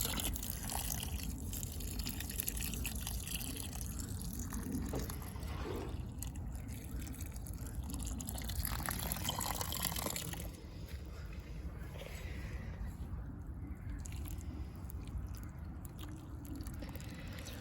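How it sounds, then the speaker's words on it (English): Potted plants are watered with a hose. A steady, close spray and trickle of water runs continuously, with small changes in splashing as the flow moves. "So I can easily water them in right now."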